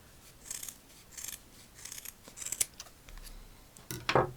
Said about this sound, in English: cut it in a rough half circle